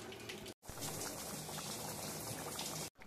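Pea ghugni, dhaba style, bubbling under a lid after a splash of water: a steady, soft simmering hiss and gurgle throughout, briefly cut out twice.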